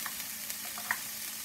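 Spices and tomato paste frying in a pan for a Jamaican beef patty filling with turmeric, a low steady sizzle with faint scraping stirs, heard close and alone.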